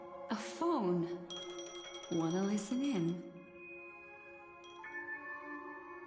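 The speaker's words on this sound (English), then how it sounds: "A phone. Wanna listen in?" Phone ringing in the Honkai Star Rail video game, a soft electronic tone that rises in pitch near the end, heard after synthesized vocal-like melodic sounds over quiet music.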